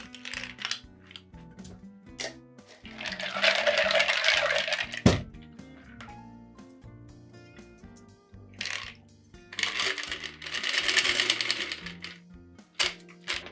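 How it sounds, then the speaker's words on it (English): Ice cubes clatter into a tall Collins glass while a mojito is built, with two dense bursts of clinking and rattling separated by a pause and scattered single knocks, close and fairly loud, no talking. "we're gonna fill that with ice"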